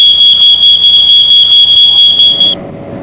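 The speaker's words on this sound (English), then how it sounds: "smoke detector goes off." A smoke detector sounds loudly and close by with a piercing high pulsing beep, then cuts off abruptly near the end, leaving a faint room hiss.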